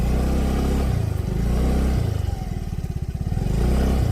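A Yamaha Mio Gravis scooter drones steadily through a muddy river crossing, its low engine note rising and falling slightly, close and continuous with a rough mechanical rattle.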